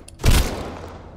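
A grenade explodes in the survival game Sunkenland, a single sharp, loud blast with a heavy low thump that quickly decays into a short rumbling tail.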